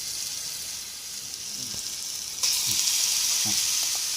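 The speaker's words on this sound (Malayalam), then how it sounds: "ചിക്കൻ വറുത്തെടുക്കാം നമുക്ക്." Chicken pieces frying in hot oil in a pan for cheese lollipops, a steady close sizzle that jumps louder midway, with a few soft stirring knocks and no talk.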